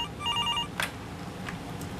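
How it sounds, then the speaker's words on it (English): A customer support desk telephone gives a brief electronic ring, a few quick warbling tones followed by faint clicks, fairly quiet over low room noise. "Phone rings."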